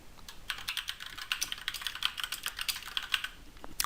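Rapid typing on a computer keyboard while a footnote is written in Word 2016, with steady, close, evenly spaced key clicks and no voices.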